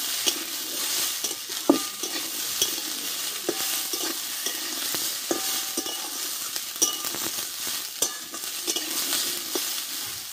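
Spring onions and chili being stirred in a hot frying pan, a constant oily sizzle with repeated spatula scrapes and light clinks against the pan, close and steady.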